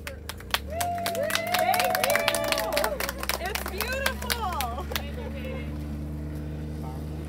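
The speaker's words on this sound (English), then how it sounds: "Can we all give Roger a big hand of applause for..." A small outdoor group at a soil pit during a soil health field workshop claps in scattered, sparse bursts. Voices and tonal calls overlap the clapping before it thins out toward the end.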